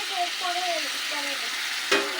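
Half-boiled mung dal goes into a cooked fish-head masala in a hot pan, raising a constant hiss of sizzling with faint tonal whines over it and one sharp clatter near the end.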